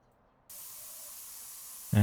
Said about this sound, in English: Spray the entire front of it.